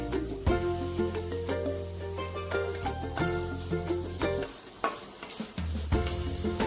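Spiced samosa filling sautéed and stirred in a pan, with sizzling under scraping spoon strokes and clinks against the metal, plus a steady tonal hum in the background.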